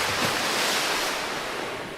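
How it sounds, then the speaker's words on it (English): Layered ocean water samples in a song form a broad, even wash of surf-like rushing noise that stays steady and full with no voices. "layering up the samples of water effects, the band is able to create this feeling of diving into the ocean"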